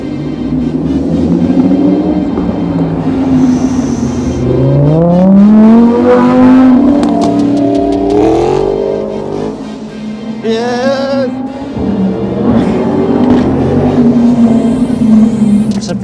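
A loud car engine revving and rumbling as it drives closer, the roar rising and falling continuously for the whole stretch.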